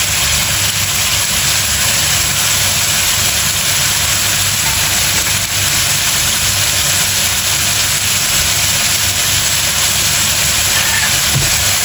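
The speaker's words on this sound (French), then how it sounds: "on va rôtir avec le beurre" Chicken strips roasting in melted butter give off a loud, steady, unbroken sizzle that hisses evenly throughout, with no voices over it.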